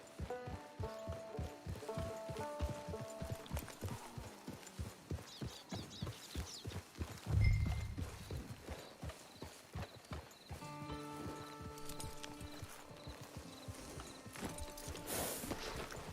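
Horse hooves clip-clop at a steady walking rhythm in the Red Dead Redemption Online video game, close and clear, with a brief snort or whinny midway and game music playing underneath.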